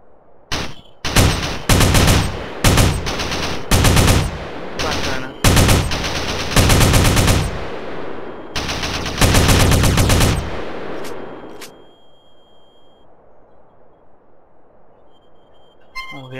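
AK-47 rifle fire in GTA San Andreas with a Battlefield 2142 weapon pack, loud repeated bursts and single shots in an uneven rhythm, followed by a faint ringing tail and quiet, evenly spaced ticking.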